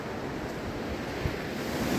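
A river rushes in a steady, broad wash of flowing water, loud and continuous near the bank of a park trail, with a little wind noise mixed in.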